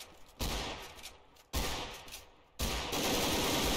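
Bursts of SWAT gunfire in the video game Garry's Mod, three loud volleys of rapid shots, the last one sustained and dense.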